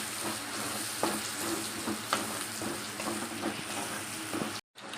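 Onion, green chilli and curry leaves fry in hot oil, a dense, steady sizzle close by with soft stirring clinks throughout, cutting off abruptly near the end.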